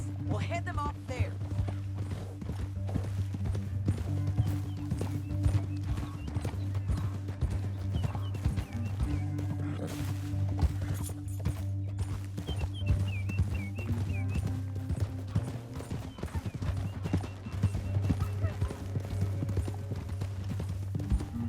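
Horse hooves clip-clop steadily in Red Dead Redemption II, a continuous trotting rhythm under a constant low rumble, with occasional whinnies and character voices speaking over it.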